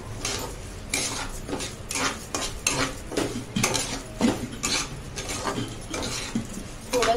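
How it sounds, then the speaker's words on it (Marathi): Semolina roasting in oil with cardamom for quick lapsi, stirred continuously with a spoon scraping against the pan in a steady rhythm of clinks and scrapes over a low sizzle, close and clear. "थोडंसं हे हलवतच राहायचं, नाहीतर खाली रवा चिकटतो"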